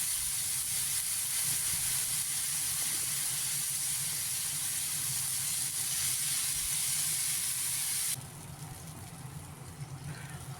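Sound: tomato puree added to hot oil with green chillies and nigella seeds

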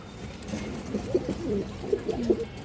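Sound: pigeons cooing

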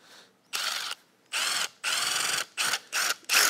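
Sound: power drill running

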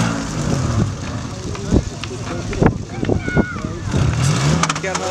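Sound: off-road car engine revving

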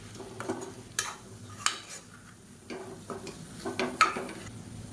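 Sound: sautéing chili powder in oil

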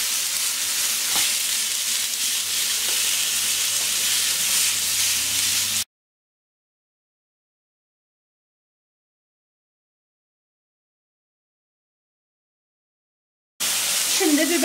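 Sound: minced meat frying in a pan

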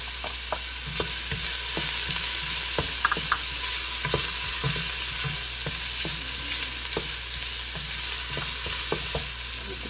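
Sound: garlic, onion and ginger sautéing in pan

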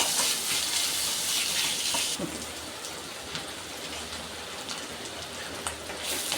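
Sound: onions and ginger garlic paste frying in a pan for samosa filling

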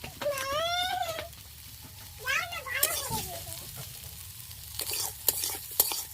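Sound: stirring and sautéing in a frying pan for egg curry

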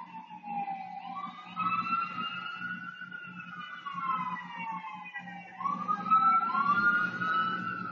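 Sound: ambulance siren passing

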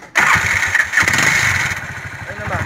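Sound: Bajaj 205 motorcycle engine starting after cylinder head rebuild

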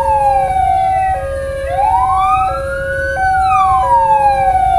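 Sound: ambulance siren at a railway crossing

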